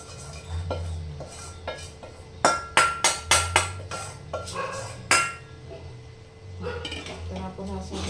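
Sago is added to a pan of fried potatoes and chillies for sabudana khichdi. A run of sharp metallic clinks and taps against the pan stands out close by, with softer kitchen clatter and someone talking around it.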